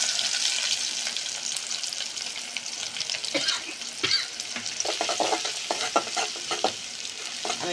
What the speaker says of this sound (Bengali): দিয়ে দেবো এখন কিছুটা কালি জিরে ফোড়নে, দিয়ে দেবো পেঁয়াজ রসুন।